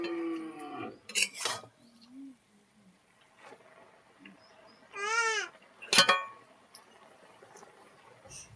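A cow moos nearby in a rural kitchen setting, two drawn-out calls separated by quiet, with brief sharp clatters and faint background sounds between them.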